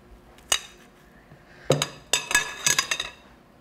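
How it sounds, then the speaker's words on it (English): Spatula scraping the last of the muffin batter from a mixing bowl, a few sharp clinking scrapes and knocks at irregular intervals, close and fairly quiet, with short silences between. "I'm going to use my spatula to get all of this out of here."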